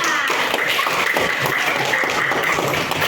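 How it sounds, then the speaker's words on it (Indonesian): Classroom children clap together during a religious education lesson, a steady, loud patter of many small hands with no pause. "Jadi tepuk tangan untuk anak-anakku semua"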